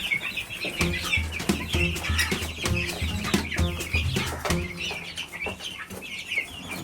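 Chickens on a small poultry farm cluck continuously in a cage, with close, repeated clucks and occasional chirps and no talking.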